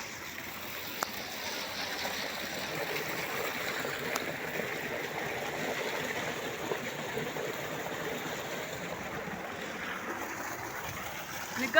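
Steady low rush of water flowing from an irrigation pump motor in a farm field in Punjab, constant and moderately close with no clear talk over it.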